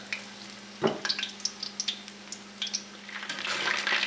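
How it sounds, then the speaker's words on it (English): Beer-battered grouper fries in about half an inch of oil in a pan, giving crackling pops and bubbling sizzle in uneven bursts that grow denser toward the end, close and moderately loud, with no talking. "I put about a ½ inch of oil in this pan, and I'll cook one side, then I'll flip it and cook the other side"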